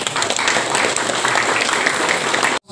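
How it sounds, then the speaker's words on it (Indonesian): An audience at a vehicle tax compliance outreach session in Cilacap breaks into applause, a loud, dense, continuous clapping that holds steady for over two seconds before cutting off abruptly. "Tepuk tangan dulu."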